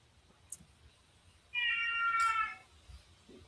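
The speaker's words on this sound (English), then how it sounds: "It's Kitty outside the door meowing." A cat outside a door lets out one drawn-out, clear meow lasting about a second, set between faint bumps and a quiet room background.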